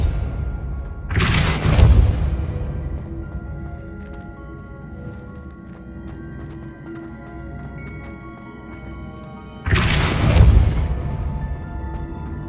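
Two spell blasts from the video game Hogwarts Legacy, Depulso and Accio, each land as a loud whooshing boom, one early and one near the end, over a quiet game ambience.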